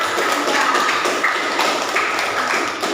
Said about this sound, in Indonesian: Kita kasih aplaus untuk namanya